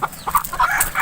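Short burst of hens clucking nearby, a few quick overlapping calls from more than one bird.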